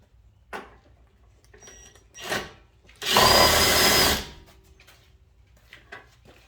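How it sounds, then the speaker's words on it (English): A power tool bolts the strut back down on a Toyota Supra A91 during a lowering spring install: one loud, close burst of about a second, preceded and followed by quieter clanks and handling noises. "Time to bolt the strut back down."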